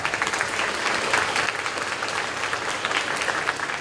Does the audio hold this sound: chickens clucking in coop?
no